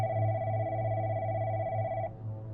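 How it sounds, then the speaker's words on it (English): A home landline phone sounds in a steady, continuous electronic tone for about two seconds, then cuts off, alone over a low background hum, as a sound effect in an animated horror story. "We had been home alone and down in the basement for around an hour when the phone went off."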